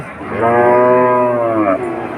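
A large bull moos once, loud and close, in a long drawn-out low call that fades at the end. The setting is the Betaga cattle market in Bagerhat, with a steady murmur of background noise.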